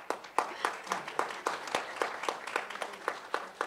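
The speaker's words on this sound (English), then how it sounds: "One more round of applause." An audience at a senior talent show applauds with a steady patter of handclaps, moderately close and fairly sparse.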